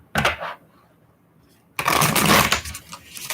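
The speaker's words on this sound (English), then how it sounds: "You guys saw me shuffling and that card just popped out, right?" Tarot cards shuffled up close by hand: a short riffle burst, a pause, then a longer crisp run of snapping, fluttering card noise with no speech.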